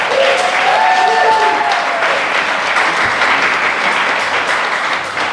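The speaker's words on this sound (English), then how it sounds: "Give them another round of applause." An improv show audience gives a scene's performers another round of applause, a dense, loud, sustained wash of clapping that runs unbroken through the whole stretch.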